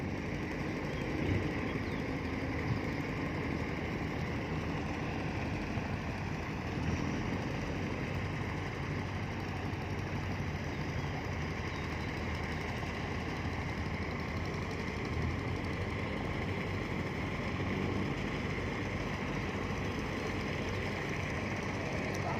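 A river dredging boat's engine drones steadily and evenly throughout on the Pattani river, a continuous low rumble heard from some distance with no breaks or changes.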